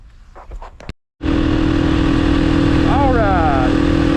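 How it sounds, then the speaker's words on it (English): A 2016 Beta 500RS supermoto motorcycle pulls away and holds a loud, steady engine drone close by, with a brief rising pitch sweep partway through, after a short gap of near silence. "we're gonna go for a little test ride right now."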